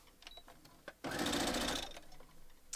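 A sewing machine fitted with a quarter-inch quilting foot runs one quick burst of rapid stitching, lasting about a second, between quieter handling clicks while sewing quilt rows.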